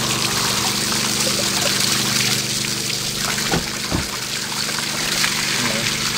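Water runs steadily from a tap while paint brush joints are rinsed, a continuous trickling flow with a few brief splashes partway through and a low mechanical hum underneath.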